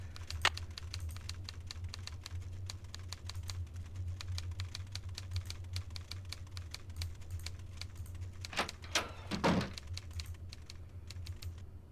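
Keyboard typing in the Nancy Drew game Treasure in the Royal Tower: quick, irregular key clicks run steadily throughout over a low hum, with a few louder clacks near the end.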